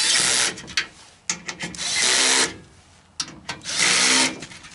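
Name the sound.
power drill driving screws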